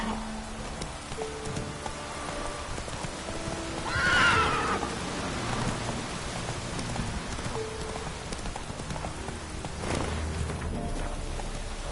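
A horse in The Witcher 3: Wild Hunt whinnies once loudly partway through, with hoofbeats clopping along under falling rain and a soft game score in the background.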